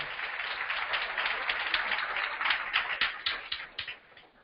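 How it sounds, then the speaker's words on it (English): Audience applause at a talk or seminar, a dense steady patter of many hands clapping that swells and then tapers off near the end, with no speech over it. "Can we give Selenium a round of applause?"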